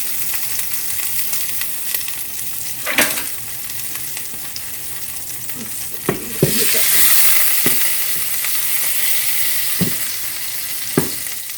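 Four tablespoons of butter sizzling in a pan with a continuous hiss that swells noticeably partway through, dotted with a few sharp clicks and taps, and no voices.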